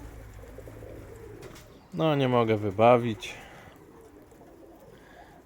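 A domestic pigeon coos in a loft, a short close burst of throaty rolling notes, with someone talking quietly before and after.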